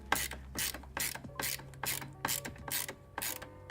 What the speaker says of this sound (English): which should be quite easy with magnetic screwdriver